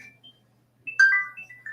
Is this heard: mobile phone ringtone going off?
yes